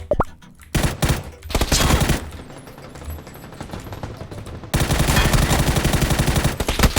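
Gunfire in the video game PUBG: rapid automatic bursts and repeated loud shots, dense and continuous toward the end, with no talking over them.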